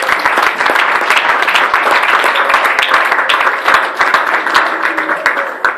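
A church congregation at an evangelistic service in Brussels applauds loudly and continuously, dense clapping filling the hall with some voices mixed in underneath.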